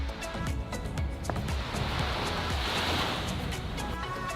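Ocean waves wash onto a beach in south Bali, a steady, broad roar of surf with a swell in the middle, heard close with some wind on the microphone.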